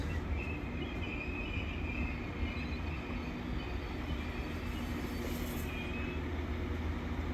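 A Class 195 diesel multiple unit pulls away from a station platform bound for Leeds, its steady low engine rumble and rolling noise holding constant and fairly loud throughout, with no voices.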